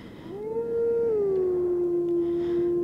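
Wolf Link in The Legend of Zelda: Twilight Princess gives a single long howl, rising at the start and then holding a clear, steady sustained tone that gently dips, loud and close with no talk.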